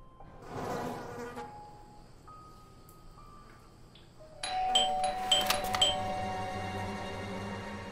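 An electronic doorbell in a video game chime rings out in several bright, sustained tones after a quieter stretch of faint buzzing and tonal beeps, clear and close.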